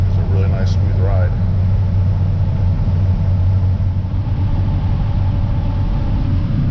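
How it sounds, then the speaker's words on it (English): A John Deere X9 1000 combine harvests corn on a track system at just over six miles per hour, its engine giving off a loud, steady low rumble with a continuous drone underneath. "we're running here again just over 6 miles per hour and pushing through this corn of the combine"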